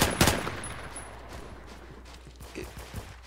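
Semi-automatic gun firing in the Roblox shooter Phantom Forces, a sharp shot near the start followed by fainter scattered pops and game ambience over the rest.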